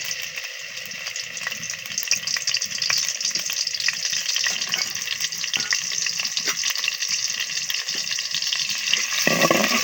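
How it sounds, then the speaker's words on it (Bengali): Chopped onion dropped into hot oil in a home kitchen pan, giving a dense, continuous sizzle and crackle that holds steady for several seconds, near and loud, with a brief clatter at the very end. "আমি এখানে পেঁয়াজ কেটে নিয়েছি পেঁয়াজটা দিয়ে দিচ্ছি"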